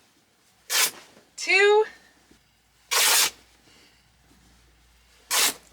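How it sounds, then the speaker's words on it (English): Fabric panels for a cosplay dress are torn apart by hand in three sharp, loud ripping bursts, separated by pauses, with a voice counting briefly between them. "Time to rip our panels."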